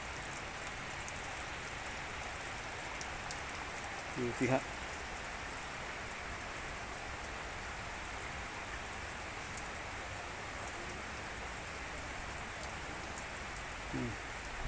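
Light evening rain patters steadily after a hot, humid spell, a soft even hiss of drops on surfaces; a person speaks briefly a couple of times over it.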